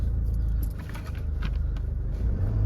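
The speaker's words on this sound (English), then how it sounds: "Start the car up." Jaguar XE 2.0 diesel R-Sport saloon with manual gearbox starting up, a low steady engine rumble that settles into a quiet idle close by, with no talking.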